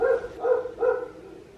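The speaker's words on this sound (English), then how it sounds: "the neighbour's dog is barking" A neighbour's dog barks three times in quick succession at an even pace, clear and moderately close with nothing else around it.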